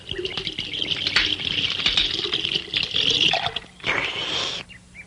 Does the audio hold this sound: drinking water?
yes